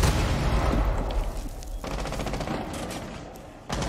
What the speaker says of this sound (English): Shoot the barricade down for me. Look, you can shoot the barricade down.